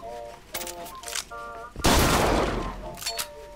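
Musket fire in a video game: after a stretch of chiming interface tones, a loud broad gunshot burst erupts and decays over about a second and a half, followed by more tones and a brief spoken word.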